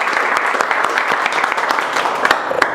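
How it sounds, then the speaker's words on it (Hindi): A classroom full of students gives loud, enthusiastic applause, a dense, fast clatter of many hands clapping at once, close and steady, with no talking over it. "हम एक बार शुरुआत करेंगे जोरदार ताली से"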